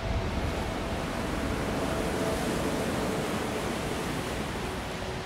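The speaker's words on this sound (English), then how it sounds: "Without even saying a word, you can hear we're by the sea." Sea waves break on a shore at the foot of a mountain, a continuous loud wash of surf with no talk.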